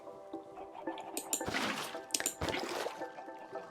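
Minecraft water being placed and flowing, a close trickling, splashing wash with brief bright clicks, rising in the middle and then fading, with no voices over it.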